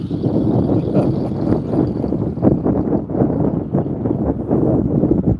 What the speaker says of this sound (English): The wind is coming directly out of the south here.